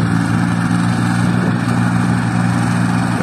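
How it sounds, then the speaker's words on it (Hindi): A John Deere 5050D and an Escort 325 tractor strain together in a wet field at full throttle, a loud, continuous engine drone with steady low harmonics and no talking. "ट्रैक्टर सब खींचना चालू कर रहे हैं,"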